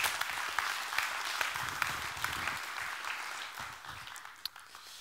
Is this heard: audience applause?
yes